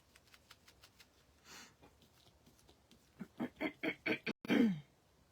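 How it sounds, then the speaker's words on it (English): A person clears their throat close by in a quiet room, several short rasping bursts in quick succession after faint clicking and a soft sniff. "I keep clearing my throat."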